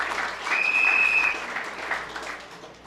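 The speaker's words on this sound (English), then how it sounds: "let's give them a Caroni Central round of applause" An audience at a UNC pavement report meeting in Caroni Central applauds members of parliament, a steady wash of clapping that swells and then gradually tapers off, with a brief whistle near the start.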